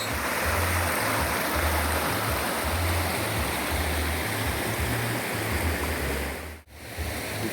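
A rushing stream and waterfall in a rainforest, a loud steady broadband roar of falling and flowing water close by, unbroken except for a brief dip near the end.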